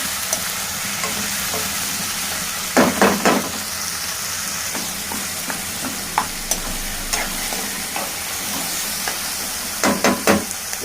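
Curry leaves, onion and tomatoes frying in a pan, with a steady crackling sizzle throughout, punctuated by clustered bursts of spatula clatter against the pan.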